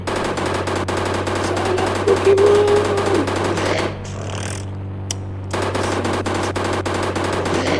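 Rapid automatic gunfire in the mobile game Indian Bike Driving 3D, a loud continuous rattling burst that pauses briefly near the middle and then resumes, heard alone at close range.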